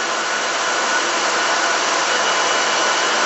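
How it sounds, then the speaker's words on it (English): An open-end spinning machine in a textile mill turns cotton sliver into yarn, giving a steady, loud, unbroken hiss and whir throughout, with no talking. "This is the open end machine."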